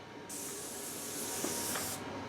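Airless paint sprayer spraying dark interior household paint onto MDF: a steady, loud continuous hiss starting after a brief pause and cutting off abruptly about two seconds later.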